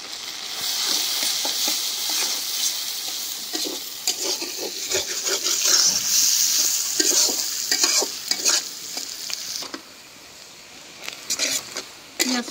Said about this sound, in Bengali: এখন দিয়ে দেবো পেঁয়াজ।